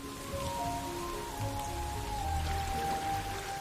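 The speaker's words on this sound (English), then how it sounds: "The water comes down in buckets." Heavy late-spring rain pouring down in a forest, a dense continuous patter and wash of water with faint tonal hums in the background, steady and fairly close.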